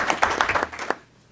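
A short burst of applause at a high school district board meeting, a small group clapping briskly for under a second before it quickly fades out, near and moderately loud.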